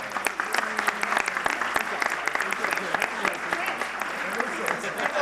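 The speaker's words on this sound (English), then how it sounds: "Hey, round of applause." Audience applause rising from a group gathered at an event, a brisk, crisp patter of many hands clapping steadily at close range throughout, with a few scattered voices among it.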